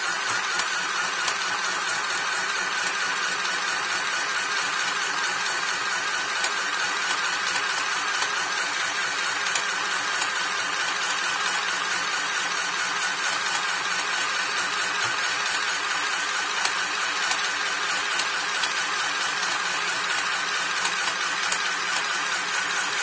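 A sewing machine runs continuously while stitching tulle rosettes, a steady loud mechanical whir with faint rattling that holds evenly throughout with no talking.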